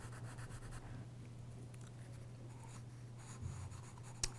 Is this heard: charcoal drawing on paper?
yes